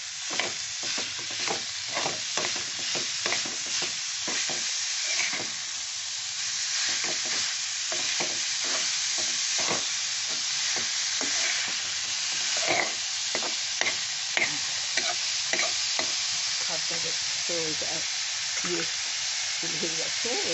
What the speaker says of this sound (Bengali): আর এই লাউ দিয়ে এই মশলা দিয়ে কষে নেব